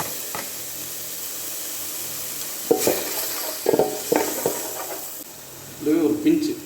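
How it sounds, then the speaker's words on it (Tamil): Onion and tomato fry in a pan with a steady low sizzle, broken by several bursts of scraping as the mixture is stirred, close and moderately loud, with no speech over it. "இப்போ அதே பாத்திரத்தில் வெங்காயம் ஆட் பண்ணிடலாங்க. கூடவே டொமேட்டோ தக்காளி ஆட் பண்ணிடலாங்க."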